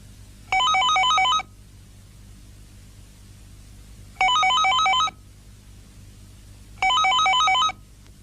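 A telephone rings in three evenly spaced electronic trilling bursts, each about a second long, loud and close against a faint background hiss.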